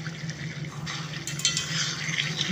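Bottle gourd curry being stirred with ghee in a pan, a soft steady scraping and gentle sizzle close by, with occasional utensil clinks against the pan and no voices.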